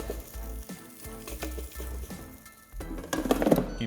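Chicken wings frying in a pan after twenty to thirty minutes of cooking, a steady close crackle with intermittent stirring and clinks, swelling into a louder sizzle near the end.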